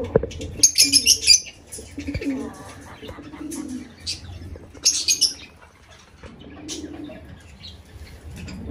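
Pet cockatiels and lovebirds scuffling and fighting, with repeated bursts of sharp, high chirps and squawks, some flapping and cooing, close and loud over a low background hum, with brief faint talk.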